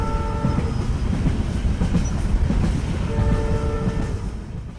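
Cartoon train pulling into a station: a steady rumbling roll of wheels and carriages with bright tonal horn or brake notes ringing over it near the start and again toward the end, loud and continuous throughout.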